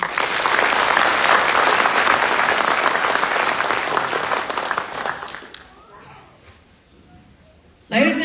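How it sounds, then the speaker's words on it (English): Sustained crowd applause at a military drill sergeant graduation at Fort Leonard Wood, Missouri, loud and dense for about five seconds before fading into quiet, then a brief renewed burst at the end. "Please join me in a round of applause for the commandant's list."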